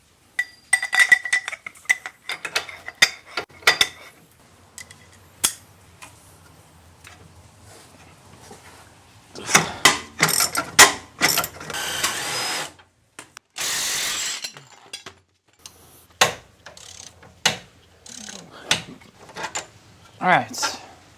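Ratchet wrench loosening rear suspension nuts and bolts on a car, with bursts of rapid metallic clicking and clanks scattered between pauses and occasional talking.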